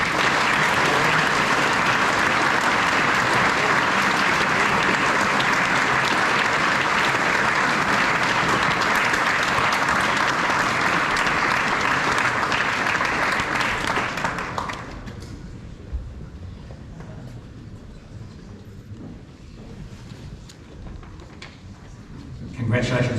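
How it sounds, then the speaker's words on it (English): A New Zealand school assembly at Wellington College bursts into loud, sustained applause for the swimming team, a dense wash of clapping for about fifteen seconds before it fades to quieter room noise and a voice resumes. "Let's give them all a round of applause."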